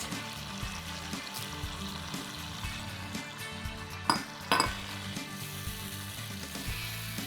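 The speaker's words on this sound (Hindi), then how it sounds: "बस इसको अब आपको भूनना है अच्छी तरह के टमाटर हमारे बिल्कुल गल जाए।" Potatoes frying with masala, ginger and tomatoes in a kadhai, giving a steady close sizzle and crackle throughout, with a couple of brief clinks from stirring partway through.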